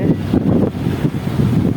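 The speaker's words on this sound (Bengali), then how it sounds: "একদম বাতাস ছাড়ছে অনেক আজকে" Strong wind roars and buffets the microphone in a steady, loud, low rumble that continues throughout.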